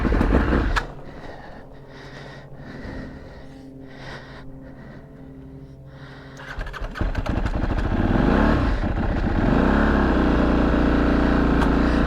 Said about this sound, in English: Just gonna run around the block, make sure it's good.